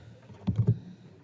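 Computer keys are tapped while entering numbers into Desmos, a quick cluster of three or four close clicks followed by a pause and one more tap, quiet and alone.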